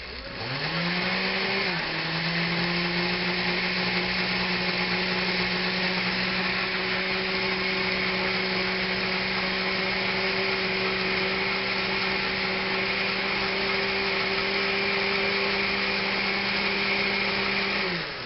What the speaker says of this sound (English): we're going to use the new blender for the first time and see how it works